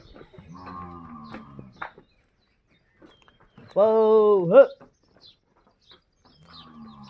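A water buffalo on a village farm lets out one loud, close, drawn-out moo, with a person talking briefly before and after it.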